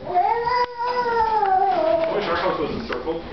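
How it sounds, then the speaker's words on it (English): A kitten lets out a long, drawn-out meow that wavers in pitch, close and fairly loud, breaking briefly before trailing into a lower yowl, with a voice mixed in. "It's a cat"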